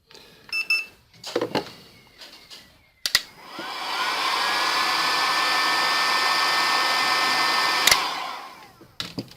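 A hair dryer runs steadily for several seconds with a constant whooshing whine, blowing heat onto a Galaxy S3 Mini phone screen to loosen broken glass, framed by short clicks and handling noises before and after.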